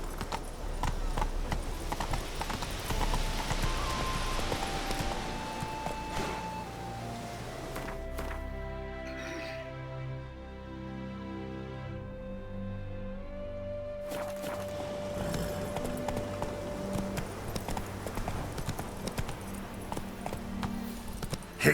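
Roach the horse gallops in The Witcher 3: Wild Hunt, Hearts of Stone, with a rapid, continuous run of close hoofbeats over a bed of sustained musical tones, the hooves easing briefly midway before picking up again.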